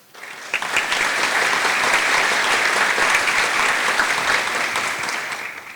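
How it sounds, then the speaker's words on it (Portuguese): A large crowd claps steadily and loudly at a formal ceremonial session, sustained applause filling the room for several seconds without voices on top. "que peço uma salva de palmas."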